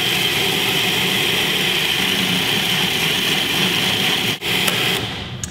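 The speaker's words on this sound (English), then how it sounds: "I often like to give my machine a little tilt and a rocking back and forth to help everything continually feed down into your S-blade" A food processor's S-blade grinds almonds and dates in a steady, loud, dense whirr, then briefly cuts out and restarts, with no voices.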